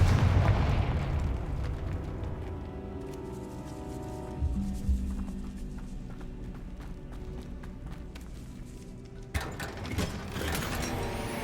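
A Confringo fire spell bursts in the Hogwarts Legacy video game, a loud booming blast at the start that rumbles and fades, with further thumping impacts and a second sharp burst near the end.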